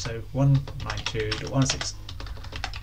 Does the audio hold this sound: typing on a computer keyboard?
yes